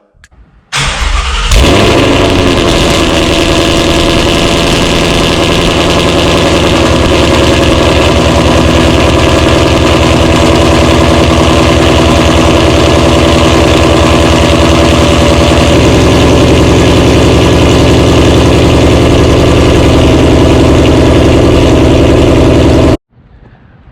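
A Ford Mustang GT V8 fires up from cold inside a garage with a loud burst, then settles into a steady, deep, loud idle that runs on continuously, its tone shifting slightly partway through.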